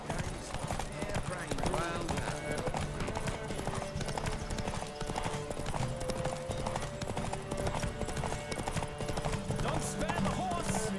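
Horse hooves clip-clop at a steady gallop in The Witcher 3: Wild Hunt, a continuous close rhythm running under game music, with voices talking over it.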